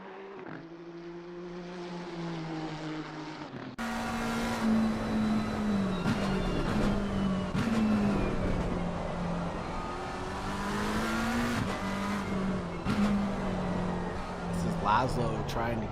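Race cars lapping Silverstone circuit in a racing video game, a Nissan GT-R 3.8-litre V6 twin turbo among them: a steady, droning engine note rises and falls through gear changes, continuous and fairly loud under constant commentary.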